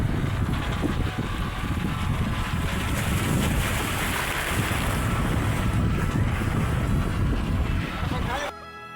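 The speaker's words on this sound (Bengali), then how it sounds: "যেটা স্পিড বোট যাচ্ছে" A speedboat races across the open sea in the Maldives, with a loud continuous rush of engine, wind buffeting and spray filling the whole stretch before cutting off abruptly at the end.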